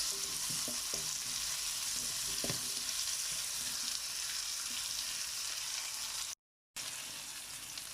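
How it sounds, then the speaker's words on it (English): Peppers and garlic fry in a pan for chilli paneer, giving a steady close-up sizzle with a few soft stirring knocks early on and a brief gap in the sound near the end. "So the peppers has been cooking for about 3 minutes now. Peppers and the garlic."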